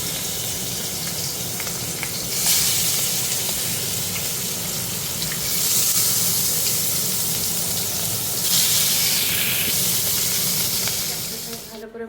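Food sizzles and hisses in a hot pan, the frying swelling louder in a few bursts before easing off near the end.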